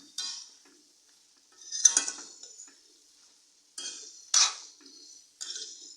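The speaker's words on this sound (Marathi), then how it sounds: "हे चांगलं आपण आता परतून घेऊया।" Ridge gourd and potato pieces being sautéed in a pan, heard as intermittent bursts of stirring scrapes and clatter, close and moderately loud, separated by quiet gaps.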